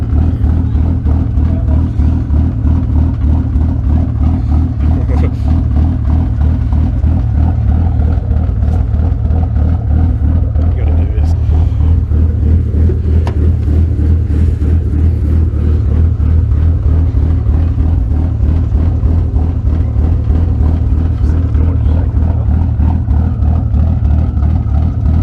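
Ford FG XR6 Turbo on a dyno, its engine running steadily at idle with a rhythmic, even throb, loud and close, no voices over it.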